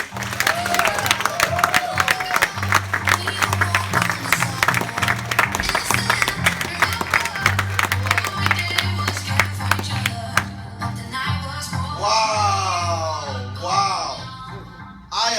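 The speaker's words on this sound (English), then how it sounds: "let's all give a very warm applause for our next Emerald leader, Mr. Armand Nagadu" An audience at a pre-launch event in Glasgow claps and cheers over loud music with a steady bass line, the applause thinning out toward the end as a voice comes through on the speakers.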